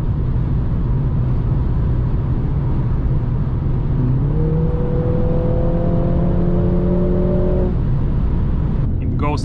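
A 2021 Mercedes-AMG GLA 45 S 4MATIC+ drives at speed, with steady road and wind rumble throughout and an engine note that climbs in pitch and holds for a few seconds mid-way before easing off.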